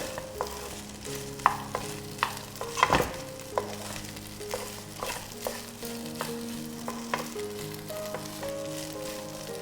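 Coconut rice sizzles softly in a pan while a spoon stirs and scrapes against it, producing a steady series of light taps and clinks with one louder clatter partway through.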